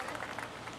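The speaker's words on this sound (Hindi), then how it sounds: "जोरदार तालियों से इस नन्हे छात्र का उत्साहवर्धन करें" An audience at a student award ceremony claps to cheer an honoured young pupil, a dense, continuous wash of many hands applauding at moderate loudness, brief and steady.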